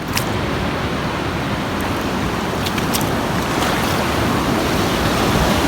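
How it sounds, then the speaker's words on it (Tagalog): Steady roar of sea waves and surf during the southwest monsoon season, broadband and continuous, with wind buffeting the microphone throughout. "Sabi alon."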